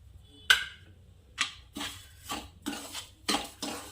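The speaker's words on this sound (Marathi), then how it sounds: "आणि असं हलवत राहायचं आहे गॅस फास्ट करायचंच नाही आहे" A spoon stirs roasted sesame seeds with sugar in a pan for sheera, giving six or seven clinks and scrapes against the metal at a loose, uneven rhythm. The stirring is fairly quiet and alone.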